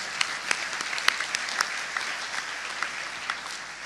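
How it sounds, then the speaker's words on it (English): A crowd at a military change-of-command welcome ceremony applauds in a steady, moderately quiet patter of many hands, with a few sharper individual claps standing out. "that alone gives a round of applause"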